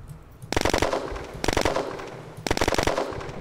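Bursts of automatic gunfire from the online shooter game Red Crucible: Firestorm, three loud rapid-fire volleys about a second apart, each a quick rattle of shots with no talk over them.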